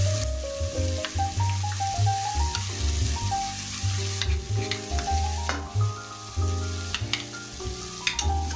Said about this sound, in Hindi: अब हम इस पेस्ट को इस ग्रेवी बनाने के लिए डालेंगे